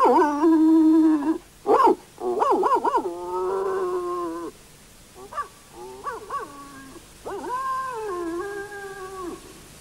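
A drawn-out, wavering series of howls and short yelps from an old dog in an animated film, loud and close with brief pauses between cries.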